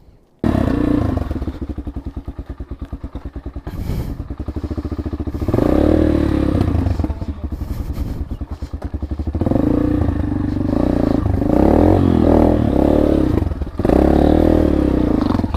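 A motorcycle rides a rough mountain road near Mailung Waterfall, its engine droning loud and close throughout while the frame clatters and thuds over bumps.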